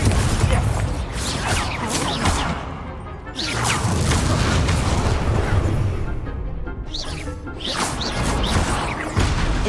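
Incendio fire spell cast repeatedly in Hogwarts Legacy, loud crackling bursts and whooshing flame blasts with crashing impacts, fading briefly around the middle and near the end before surging again.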